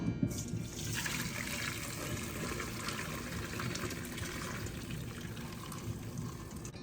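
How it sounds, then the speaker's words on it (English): Seitan broth strained off the cooked seitan, liquid pouring and splashing steadily, close and fairly quiet, a continuous watery trickle with no talking. "now we can go ahead and strain this"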